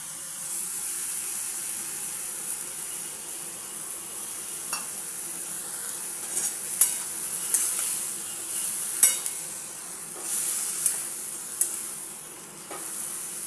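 A water-thinned spice paste of ginger, turmeric, red chili powder and sugar frying in a pan, a steady hissing sizzle with sporadic utensil clicks and scrapes while being stirred.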